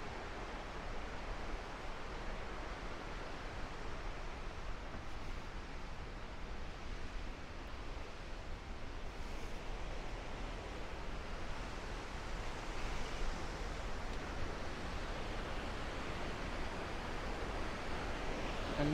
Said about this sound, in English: You can begin to hear the river and the falls.